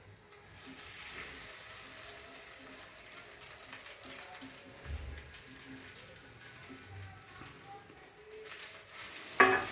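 Cooked rice for fried rice sizzles quietly in a pan over low heat while being stirred, a soft steady crackle with occasional scraping and a sharp clink of a utensil at the end.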